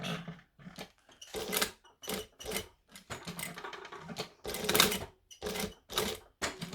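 A sewing machine top stitches through vinyl in short bursts of rapid mechanical stitching, separated by brief pauses, close and fairly loud, with the stitch rhythm occasionally faltering.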